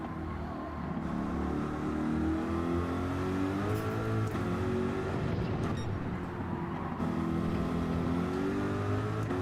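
A race car engine revving in the Gran Turismo 7 racing video game, a steady droning engine note that rises and falls in pitch through gear changes, loud and continuous without talk.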